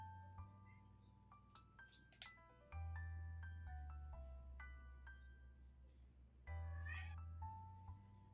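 A cat meows faintly several times, its calls scattered among quiet, tonal background sounds.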